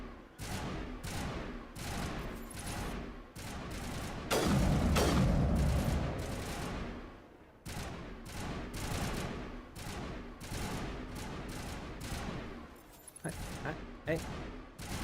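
Firefight gunfire in the game Mass Effect, sharp repeated shots crackling in irregular bursts with a heavy blast near the middle, under continuous talking.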